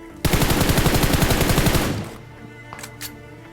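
Rapid automatic gunfire from a BGMI battle royale match erupts in one loud, continuous burst for nearly two seconds, followed by a few faint clicks.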